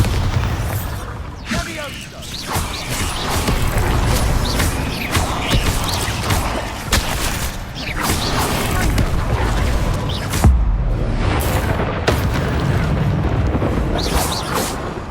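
Spell blasts and explosions in Hogwarts Legacy, with booming impacts and bursts across a busy fight, loud and dense, under a voice casting spells.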